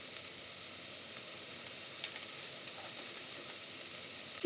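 Onions frying in a pan for a squash korma, a steady, quiet, hissing sizzle that continues throughout with a few faint ticks, and a brief sharper sound at the very end.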